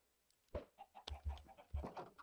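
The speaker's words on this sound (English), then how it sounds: "Just a lot of chickens." Chickens clucking in the video game Minecraft, several short bursts of clucks in an irregular rhythm, close and clear with no talk over them.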